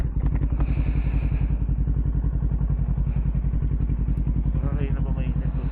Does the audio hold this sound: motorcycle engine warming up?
yes